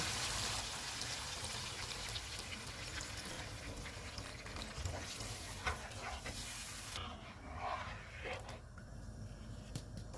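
Water, about one and a half cups, is poured into a pot of browned chicken in a home kitchen, making a steady, soft liquid rush that continues for several seconds with no talk.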